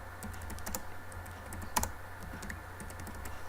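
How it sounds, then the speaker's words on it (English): Rapid typing on a computer keyboard, a quiet run of close, crisp key taps with one louder stroke midway. "I'll type it into the search bar"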